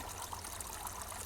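Water trickling in a mountain stream on the Gillespie Pass Circuit in New Zealand, a steady, close, moderately quiet babble and splash with no voices.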